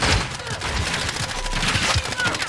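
Dense gunfire rattles through a shooter video game, rapid overlapping shots and bursts forming a continuous loud barrage.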